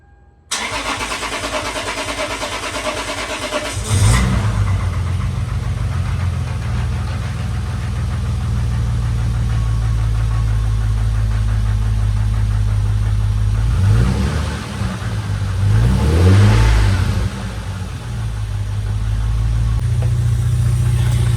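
A Lexus IS300 engine, just fitted with new valve cover gaskets, cranks and catches after a few seconds, then idles with a steady rumble, briefly revving twice near the end.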